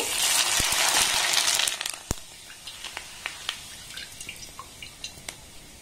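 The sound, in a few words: frying rice flour papad in oil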